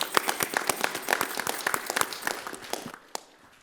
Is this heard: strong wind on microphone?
no